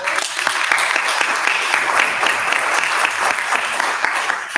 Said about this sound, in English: Can I give them a round of applause?